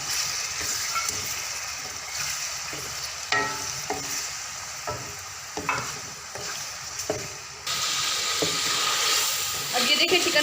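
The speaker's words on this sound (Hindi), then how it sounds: "अब ये देखिए चिकन फ्राई हो चुका है।" Boneless chicken cubes sizzle in a karahi while being stirred, with intermittent scrapes and clinks over a steady frying hiss that grows louder and steamier toward the end.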